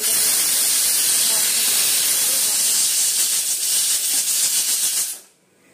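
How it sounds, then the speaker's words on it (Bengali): A pressure cooker's last whistle blows off steam on a kitchen stove, a loud, steady hiss that holds for about five seconds and then cuts off abruptly into near silence. "তো দেখো এটা সিটি পড়বে এবার, এটাই লাস্ট সিটি"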